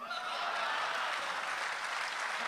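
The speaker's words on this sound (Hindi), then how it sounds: "और जोरदार तालियों के साथ।" Audience applause fills a poetry recitation evening in Dubai, a steady dense clapping from a large crowd, moderately loud and sustained throughout with faint chuckles mixed in.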